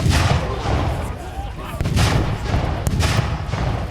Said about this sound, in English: There seems to be some mortar fire coming in from the south.